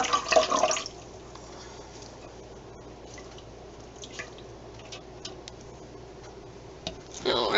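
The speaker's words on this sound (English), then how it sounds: "I'm just going to set this down for a second so I can squeeze out the water." Water drips and trickles as wet yarn, freshly dyed with Kool-Aid, is squeezed out by hand, with brief louder splashing and wringing at the start and end and quieter dripping between.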